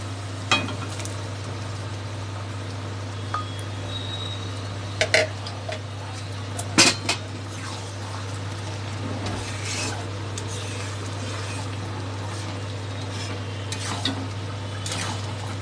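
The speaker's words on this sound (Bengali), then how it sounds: "তারপরে এটাকে ওটার সাথে মেশাবো, মিশিয়ে তারপরে একসাথে ম্যাশ করে নেব" Pav bhaji vegetables are stirred and mashed in a pan, with scraping, tapping utensil strokes and a few sharper clanks over a steady low hum, no voices.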